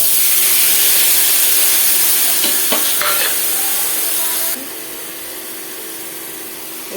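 Tomatoes and spices frying in a pan, a steady loud sizzle and hiss with a few stirring scrapes, dropping to a quieter sizzle partway through.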